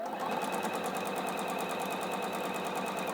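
A sewing machine runs steadily, stitching seams in quilting fabric trimmed with a hexagon ruler, its rapid even whir holding constant and close for the whole stretch with no talk.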